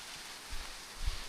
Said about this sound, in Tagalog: Ulan-ulan.